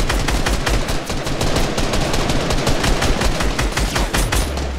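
Dense, continuous gunfire in a video game, rapid overlapping shots and bursts filling the whole stretch at steady high loudness.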